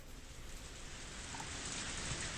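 Cold rain from the video game Higurashi Matsuribayashi falls heavily and steadily around a telephone box, a dense continuous hiss that swells slightly toward the end, with no voices.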